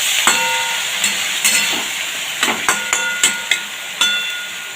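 Water poured into okra frying in a pan, a steady hiss of sizzling steam punctuated by sharp crackles and pops throughout, close and moderately loud, no voices.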